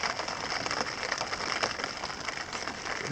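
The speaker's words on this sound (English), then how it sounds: "Rain has started." Steady rain patters on surfaces at a lakeside campsite in the Boundary Waters wilderness, a soft, even hiss with faint scattered drops throughout.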